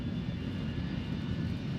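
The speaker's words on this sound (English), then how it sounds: "I can see the planes taking off and landing from my parents' house" Aircraft near an airport roar steadily with a broad, continuous engine rumble, loud and unbroken throughout with no voices.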